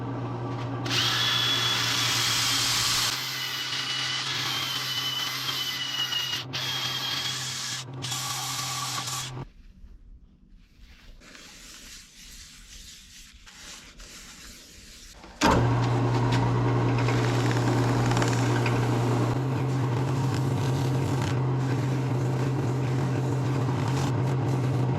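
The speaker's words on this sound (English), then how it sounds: "Okay, we're all done with the turning process. Now it's time to sand." Cherry wood being sanded on a spinning lathe, with abrasives running from 80 to 400 grit. A loud, steady motor whine and sanding hiss run throughout, broken by a quieter pause in the middle before the lathe starts up again.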